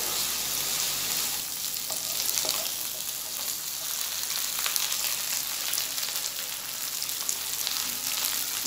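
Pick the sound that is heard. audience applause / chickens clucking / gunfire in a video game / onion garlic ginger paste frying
onion garlic ginger paste frying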